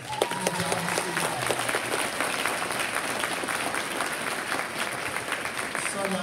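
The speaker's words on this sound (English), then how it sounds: "I want a big round of applause for Miss Hengisto." Audience applause at a kindergarten holiday concert at an elementary school, a full, sustained round of clapping from a crowd filling the room, steady and loud from start to finish.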